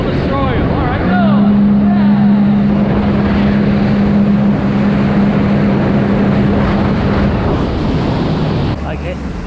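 An aluminum jet boat powered by a jetski engine races across the water, its engine holding a loud, steady drone under heavy wind rush, with voices talking over it.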